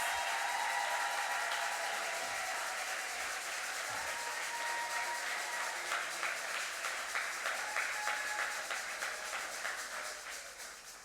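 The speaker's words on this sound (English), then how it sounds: "give Maxi Coffey a resounding round of applause" Applause for Maxi Coffey at a political party gathering, a long, moderately loud ovation of many hands that holds steady, then gradually thins and fades toward the end.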